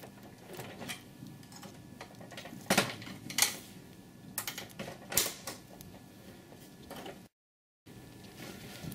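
Plastic clips on the back cover of an MXC250/MXC300 Neo multifunction printer's document feeder are released, giving a series of sharp clicks and snaps between quieter handling rattles, close by, followed by a short gap.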